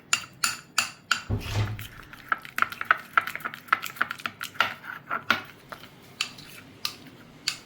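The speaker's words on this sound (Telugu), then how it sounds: "ఇవి మళ్ళీ మొత్తం మిక్స్ చేసుకోండి" A spoon stirs a homemade hair dye mixture in a bowl, giving a run of close, sharp clicks and scrapes in an uneven rhythm, with a brief low thump early on.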